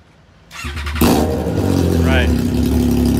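A Triumph Trident 660 motorcycle with an aftermarket exhaust starts up and settles into a loud, steady, throaty idle close by, the engine note filling the clip once it catches.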